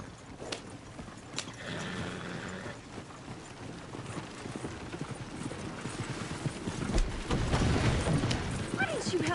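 Horses' hooves clip-clop in a rapid, uneven patter in the video game Red Dead Redemption 2, joined by scattered mechanical clatter and faint background voices.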